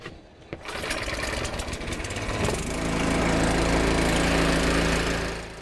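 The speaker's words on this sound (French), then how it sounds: "Obligé d'utiliser le moteur pour ne pas reculer." A small outboard boat motor drones steadily and loudly while the boat pushes against the current on a river, a buzzing engine hum that holds from start to finish with no talking.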